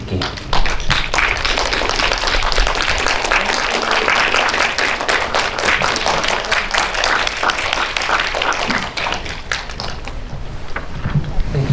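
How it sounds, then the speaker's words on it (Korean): Audience applause fills a small indie cinema hall as three guests, a director and two actors, walk in for a first-anniversary screening event; dense, steady clapping runs throughout at close range. "세 분 입장하시는 뜨거운 박수 부탁드릴게요"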